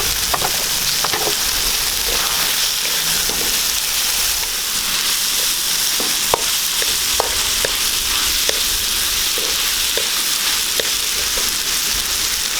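Tofu sizzles steadily in a hot pan with already-softened tomatoes while being sautéed for adobong talong, a continuous bright frying hiss broken by occasional soft clicks of a utensil against the pan.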